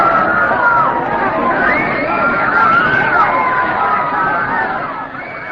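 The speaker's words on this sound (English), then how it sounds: "a great roar and howl went up from the crowd." A large assembly crowd roars and howls in a sustained, loud wall of voices and shouting that swells steadily and eases slightly toward the end.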